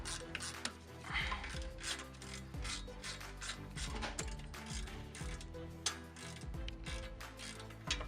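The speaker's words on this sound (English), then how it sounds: "Now loosen the 7mm caliper pins and pull them out just enough that they'll clear the caliper bracket." 7mm brake caliper pins are loosened and drawn out on the front brake of a BMW E30, giving a rapid, steady ratchet clicking with metallic scraping nearby.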